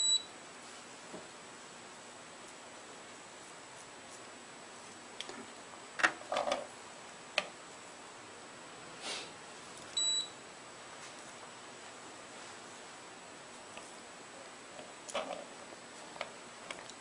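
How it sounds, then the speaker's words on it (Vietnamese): A galvanic spa pedicure machine running in a quiet room, giving short, soft electronic beeps spaced roughly ten seconds apart, with small ticks and clicks in between. "Mình nghe cái tiếng bíp cứ mỗi 10 second nó bíp một lần là cho mình biết là cái máy đang hoạt động"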